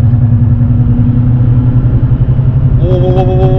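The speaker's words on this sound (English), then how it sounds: "I got a bad wheel bearing." Steady low rumbling drone from a 2015 Dodge Ram 4x4 EcoDiesel pickup with a bad front wheel bearing, a continuous hum that holds level throughout and picks up a faint higher whine near the end.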